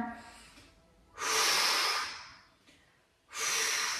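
Deep breaths during a pilates exercise: a slow inhale and exhale come in two loud, close rushes of air separated by a quieter pause.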